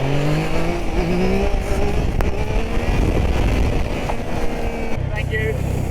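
Motorcycle engine roaring and revving hard during a launch into a wheelie, loud and continuous with rising engine tones, a car also audible nearby and a voice speaking over it.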